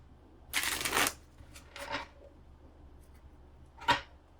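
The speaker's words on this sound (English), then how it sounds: "This is a really fun deck to shuffle, so it's hard to stop." A tarot card deck being shuffled in a few separate bursts: a long riffle, a shorter one and a quick final snap, close and alone against a quiet background.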